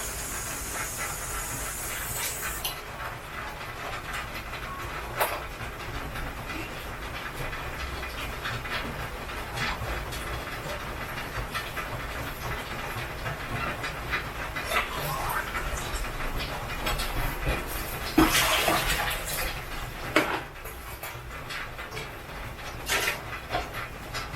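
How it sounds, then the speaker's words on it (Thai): Tomatoes stir-frying in a pan with cabbage for a glass noodle and minced pork dish give off a continuous sizzling hiss lasting a long stretch, with occasional utensil clatter and louder bursts near the end. "ผัดให้ตัวมะเขือเทศของเราสุกเลยนะคะ"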